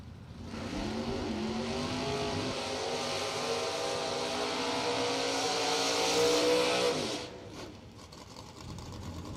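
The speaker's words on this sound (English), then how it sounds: "Awesome burnout for both cars." Two drag racing cars at a bracket racing event do a burnout, a loud sustained engine roar with screeching tires for about seven seconds before cutting off into quieter idle and crowd noise.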